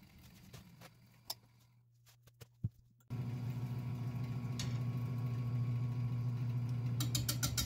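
Wood lathe spinning a large live-edge sissoo bowl blank at about 400 RPM, starting with a sudden jump into a steady, loud motor drone and rumble after a few scattered knocks.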